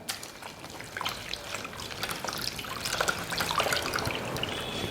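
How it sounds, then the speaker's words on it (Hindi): Water drips and trickles from a towel being gently wrung out by hand, a close, continuous patter that grows slightly fuller toward the end. "इसको हमें बहुत ज़्यादा कस के नहीं निचोड़ना है, थोड़े हल्के हाथ से निचोड़ना है, जिससे कि थोड़ा सा हल्का पानी इसके अंदर रह जाए।"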